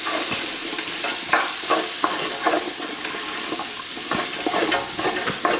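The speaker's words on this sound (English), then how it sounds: "So now let's just fry this for 5 minutes." Oxtail meat frying in a pot for a butter bean stew, a steady close sizzle with repeated scraping and clacking of a spoon stirring and pressing the meat, no voices.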